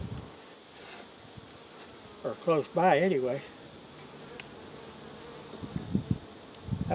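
Honeybees hum around a bee yard with water buckets set in the shade, a faint steady buzz with a brief louder pass close by, and someone speaks briefly over it.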